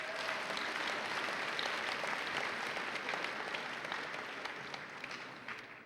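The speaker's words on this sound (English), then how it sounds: "Let's give them another round of applause." An audience at a high school class day applauds, a dense sustained wash of clapping that holds steady and fades slightly at the end, with no voices over it.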